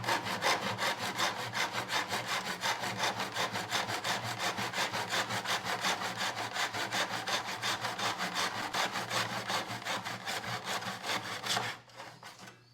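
A hand saw cuts steadily through quarter round wood trim at a 45 degree angle, a loud, close, rapid back-and-forth rasp that runs without pause for about twelve seconds, then stops abruptly.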